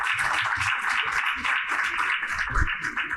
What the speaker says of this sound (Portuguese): as palmas têm que ser assim